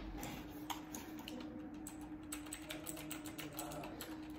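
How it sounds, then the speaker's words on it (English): Typing on an EUSO RGB mechanical keyboard, a continuous close-up patter of clicky keystrokes in an uneven quick rhythm, heard on its own without voices. "It has nice clicking sounds, if you can hear that."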